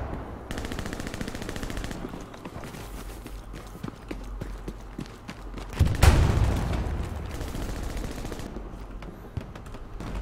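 Machine gun fire in the video game Hell Let Loose, with rapid bursts rattling repeatedly at a moderate distance and one louder, nearer burst midway.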